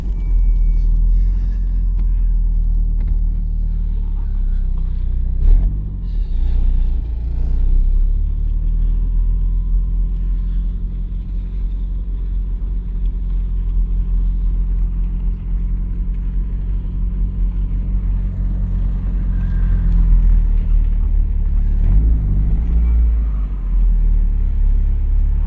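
An abandoned Mitsubishi Talon with a grabby clutch drives along, its engine a steady close rumble with brief surges of revving and jolts as the clutch bites, holding throughout with no talk.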